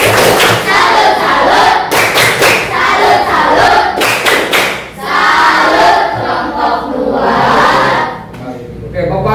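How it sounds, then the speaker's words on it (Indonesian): A classroom of students clapping in unison for a presenting group, with rhythmic clap patterns, shouts and voices over the clapping. "Oke, tepuk tangan dulu buat kelompok 2."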